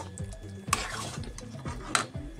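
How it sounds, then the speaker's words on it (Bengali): Taro greens (kochur shak) cooking in a pan, soft stirring scrapes and a low sizzle with two sharper clinks of a utensil against the pan, close and fairly quiet. "এই দেখো, আমার প্রিয় কচুর শাক রান্না হচ্ছে।"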